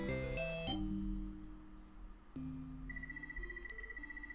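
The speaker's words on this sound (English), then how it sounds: "Did you just hear that bell?" Bell signal in the video game Ys Book I & II on the TurboGrafx-16 CD, a clear synthesized chime of several sustained tones over game music, with no talking.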